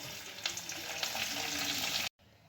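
Cumin seeds and bay leaf sizzling in plenty of hot oil for tel koi fish curry, a steady close crackling hiss that cuts off abruptly near the end.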